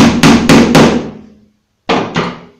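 A steel hammer strikes a shelf pin into a melamine kitchen cabinet panel: four sharp, loud blows in quick succession, a brief pause, then two more, each with a short ringing decay.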